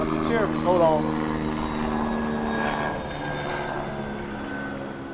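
Aircraft rotor and engine drone passing overhead, a steady layered hum that stays fairly loud throughout, with a voice speaking briefly near the start.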